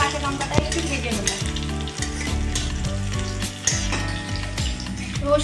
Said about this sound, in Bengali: এবার আমি ভালো করে রসুন আর কাঁচা লঙ্কাটা একটু ভেজে নেব।